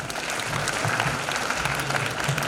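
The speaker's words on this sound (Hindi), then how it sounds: "तालियां कम नहीं होनी चाहिए।" A convocation audience applauds steadily, a full, continuous wash of many hands clapping at even loudness, with faint voices beneath.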